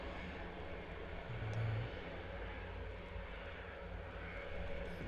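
An RAF Airbus A400M sits on the ground at Benbecula with its turboprop engines running before takeoff, giving a steady, broad, droning roar at moderate distance with no talk.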